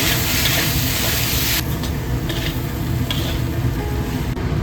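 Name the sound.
stir-frying diced potatoes with salt and curry powder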